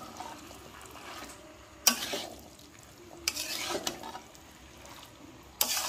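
A spoon stirs spiced kabuli chickpeas in a pan with a faint sizzle underneath, broken by a few sharp scraping bursts against the metal at irregular intervals.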